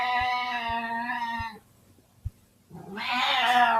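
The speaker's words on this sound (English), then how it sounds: "that is my cat" A cat gives two long, harmonically rich meows, the first drawn out and the second rising after a brief pause, loud and close, with faint low knocks beneath.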